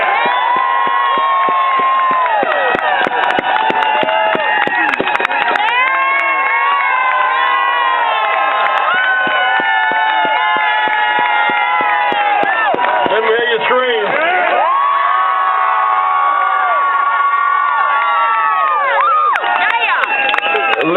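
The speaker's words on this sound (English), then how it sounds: "Let's give them another hearty applause." Large crowd at a candlelight vigil in the Wisconsin State Capitol cheers, whoops and claps loudly and continuously, with many overlapping shouting voices.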